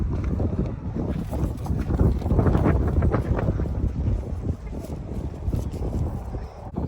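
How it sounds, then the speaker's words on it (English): Strong wind gusts roar across an open outdoor field where alpacas are kept in northeast Oklahoma, with steady buffeting noise on the microphone, rising and falling in long surges. "enjoy the alpacas with this beautiful wind in the background"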